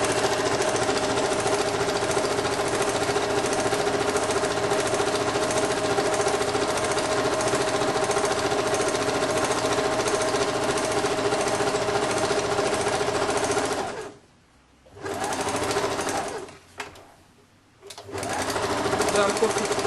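A sewing machine stitches and overcasts the sleeve seam of a women's blouse with a Peter Pan collar, a steady loud motor whir running almost continuously, with two brief pauses near the end.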